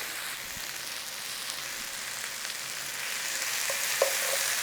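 Garlic fries in a pan with mushrooms, oil and butter, giving a soft, steady sizzle with a few faint clicks and no voices.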